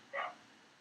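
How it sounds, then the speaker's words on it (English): Dogs barking outside, a single faint, distant bark. "my dogs are getting crazy outside."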